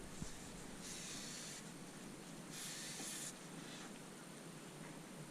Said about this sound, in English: I'm just going to spray a little bit on this front of the engine